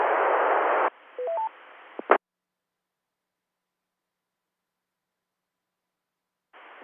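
A short run of DTMF keypad tones dials out to call a station on a VHF ham radio net, three stepped beeps over a band of hissing radio noise, then a click and near silence before static returns.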